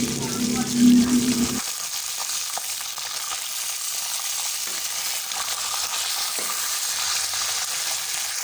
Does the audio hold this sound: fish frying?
yes